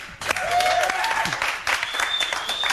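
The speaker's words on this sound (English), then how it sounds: "Thanks for clapping, guys." A studio audience at the Attack of the Show television broadcast claps and applauds, a steady dense patter of hands close and loud, with faint voices underneath.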